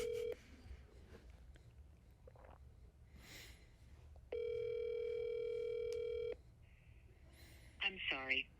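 A telephone ringback tone from an unanswered outgoing call plays as one steady two-second ring, with scattered faint rustling and brief noises around it and no clear speech.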